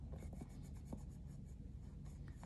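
Castle Art Gold colored pencils are drawn across a notebook page. Quiet, steady scratching strokes come close to the microphone, with a few sharper taps and rubs and no talking.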